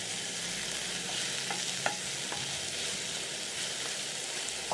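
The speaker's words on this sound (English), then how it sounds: "When the oil is ready, you're going to add in a thinly sliced large onion." Thinly sliced large onion frying over low flame in hot oil, a steady close sizzle with a few soft clicks of stirring, no talking.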